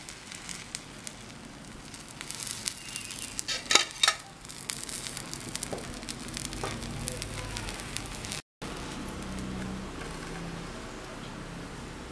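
Onion dosa batter frying in oil on a flat griddle pan, a steady near sizzle with a few louder crackles and scraping touches, continuing unbroken after a short gap.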